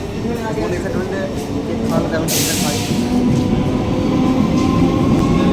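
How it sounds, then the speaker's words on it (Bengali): A train rolls through a station, a loud close rumble of wheels and carriages with rhythmic clatter and a brief hiss, steady throughout while people talk nearby. "ট্রেন চলে গেল ভাই"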